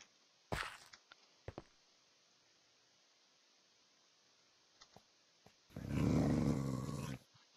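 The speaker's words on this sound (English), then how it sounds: "he's growling" A dog in a video game lets out a loud, rough growl lasting over a second, following a few scattered soft thumps like footsteps over a quiet background.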